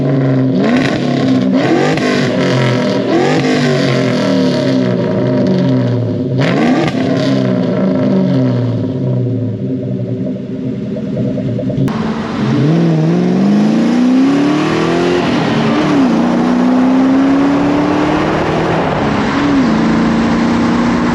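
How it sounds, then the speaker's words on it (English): A 1999 Ford Mustang SVT Cobra engine revs repeatedly, rising and falling in pitch, loud and close, with a throaty idle between the climbs. "I'm gonna go ahead and show you what the Cobra sounds like now."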